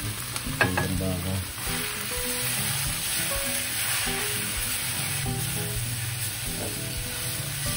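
Fresh beef sizzling steadily in a hot pan while being stirred, a constant close hiss of frying with occasional scrapes and clatters of the utensil against the pan.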